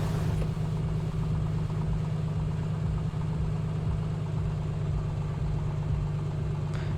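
Simulated A2A Piper Comanche 250 aircraft engine idling steadily just after a rough start in Microsoft Flight Simulator, a constant low droning hum with a faint even throb, close and alone with no talk.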